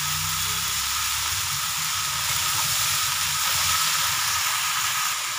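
Chopped ridge gourd and potato fry in hot oil with nigella seeds and green chilli, a steady close sizzle holding at an even level throughout with no talk.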